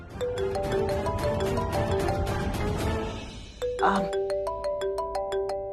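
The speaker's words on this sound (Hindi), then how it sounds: "डैम इट रिया, ये फोन कॉल बहुत इंपॉर्टेंट है" A phone ringtone plays a bright repeating electronic melody, loud and close, then shifts to a simpler beeping pattern, in a Hindi TV drama.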